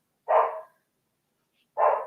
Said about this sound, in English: I apologise if you can hear the dogs.